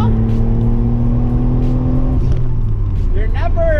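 1997 Mitsubishi 3000GT VR4 accelerates smoothly, a loud engine note rising steadily in pitch, then easing off as the gear changes; close and prominent throughout.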